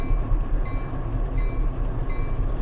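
Train rolling past on a BNSF railway line, a steady continuous rumble with a faint metallic ring, heard throughout without any voices.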